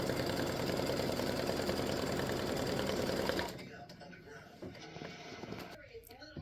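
An embroidery machine stitches down stiffener for a tic-tac-toe game board, a dense, steady mechanical whir with rapid needle chatter running loud for about three seconds, then stopping and leaving quieter scattered handling sounds.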